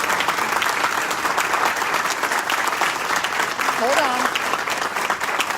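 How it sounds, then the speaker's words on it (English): A breakfast meeting audience gives a full, steady round of applause for a departing colleague, sustained clapping throughout with a voice speaking briefly over it. "So nice round of applause, if you would, for our very own Stacy Ryan"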